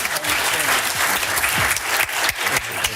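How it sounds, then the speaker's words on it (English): A city council chamber audience claps for a girls' softball team, loud and dense applause with sharp individual claps close by and a few voices mixed in. "let's just give them one last clap."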